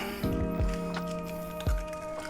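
Eggs cracked into a bowl and mixed for an egg wash, making a few wet, squelchy plops and drips close by, with a quiet pause between the last two.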